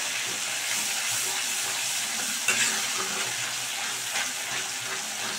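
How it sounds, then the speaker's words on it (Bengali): Masala spice paste frying and being stirred in a pan for a Bengali prawn curry, a steady close sizzle with soft scraping stirs and a brief clink near the middle, no voices. "খুব ভালো করে কিন্তু মশলাটাকে ফ্রাই করতে হবে"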